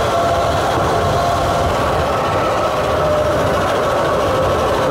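A full-size electric RC go-kart climbs a hill at speed, giving a loud, steady whirring rumble with broad road and wind noise that holds constant throughout, with no voices.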